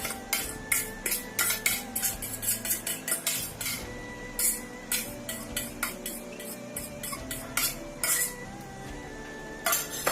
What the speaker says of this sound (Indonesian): Kita aduk sampai rata.